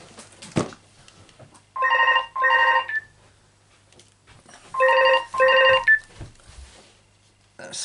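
A telephone rings in two double-burst electronic trills, loud and close, with quiet household handling noises between rings.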